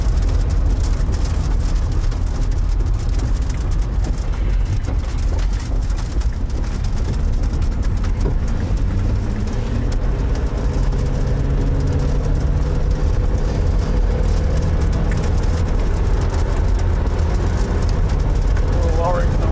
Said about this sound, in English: Hear that truck that's hanging out?